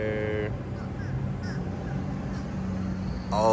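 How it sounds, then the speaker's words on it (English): A flock of American crows caws from a moderate distance outdoors, with scattered harsh calls over a steady background rumble. "They are all American crows."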